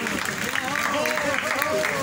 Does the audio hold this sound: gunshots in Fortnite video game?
no